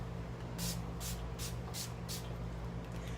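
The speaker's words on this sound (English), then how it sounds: "So you just have to spray it on your face and let it sit for a minute." Makeup setting spray misted onto a face, five quick separate bursts in a steady rhythm, each a short hiss, close to the listener, with a low steady hum beneath.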